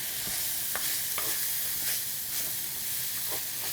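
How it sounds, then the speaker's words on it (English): About 2.5 cups of cooked quinoa sautéed in a pan for chicken fried quinoa, pushed around with a wooden utensil, giving a loud constant sizzle with repeated soft scraping strokes throughout. "And we'll start sauteing that."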